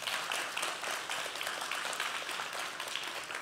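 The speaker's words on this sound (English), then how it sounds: "Please give her another round of applause." An audience applauds theater group member Shanice Wharton at a campaign launch event, with dense, steady clapping running evenly throughout and no talk over it.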